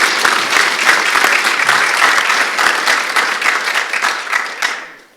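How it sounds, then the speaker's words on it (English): An audience applauds Geelong Regional Libraries at a community pitch event, a full, close wash of clapping that holds steady before fading away near the end. "So a bit of a round of applause for Geelong Regional Libraries."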